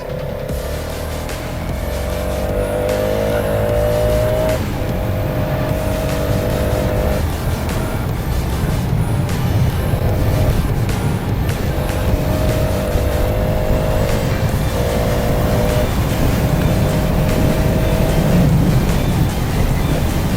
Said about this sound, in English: we just rode this motorcycle for a couple of kilometers